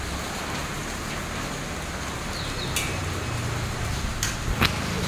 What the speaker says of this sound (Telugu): మస్తు వర్షం కొడుతుంది అసలు.